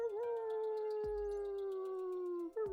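Several people imitate a wolf howl together, giving one long, sustained, wavering howl that slowly falls in pitch, loud and close, with a brief break before another voice starts at the end.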